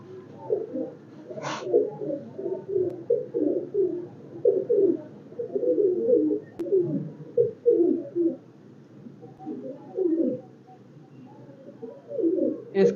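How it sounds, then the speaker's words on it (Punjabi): Pigeons kept for flying coo repeatedly at close range, soft low rolling calls in uneven bursts across a quiet background, with a couple of brief high chirps. "ਕਬੂਤਰ ਚੈੱਕ ਕਰੋ ਜੀ ਦੋਸਤੋ"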